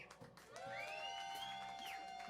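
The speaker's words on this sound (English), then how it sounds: "Y'all give him a round of applause." Audience at a live music show cheering and whooping, with a loud whistle that rises and holds over the general crowd noise.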